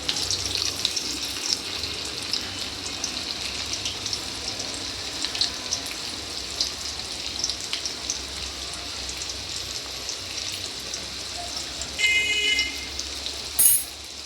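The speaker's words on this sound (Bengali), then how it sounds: "লাল লাল করে ভেজে নেব।" Crispy chicken pieces frying in oil over low heat, a steady soft sizzle and crackle holding level throughout, with a couple of brief clinks near the end.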